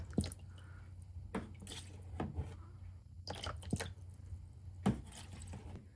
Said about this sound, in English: Using turkey baster, I will remove water from the evaporating pan.